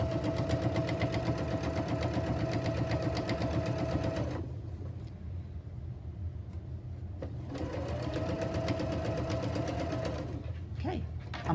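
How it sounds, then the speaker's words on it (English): A sewing machine runs steadily while stitching strips of quilt fabric, its motor whirring with a rapid needle chatter, pausing briefly midway before starting up again close by; no talk. "I'm just going to keep sewing all the way down."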